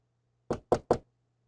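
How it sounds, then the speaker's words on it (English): Three sharp knocks on a neighbor's door in Mr. Love: Queen's Choice, evenly spaced and close, rapping quickly one after another over near silence. "I knocked on my neighbor's door."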